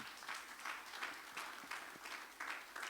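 Scattered applause from a church congregation during a Sunday service, a steady patter of hands clapping at moderate distance that rises and falls in soft waves, with no talking.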